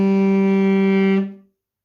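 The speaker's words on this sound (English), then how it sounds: "And then if I take the tenor saxophone, and on this I play an A, which is 2 fingers" A tenor saxophone holds a single sustained note, fingered as A and sounding as G, steady and loud for about a second before cutting off cleanly.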